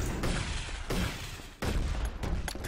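Sustained automatic gunfire from a sentry gun in a competitive first-person shooter match, loud and continuous bursts of rapid shots with brief gaps, no speech over it.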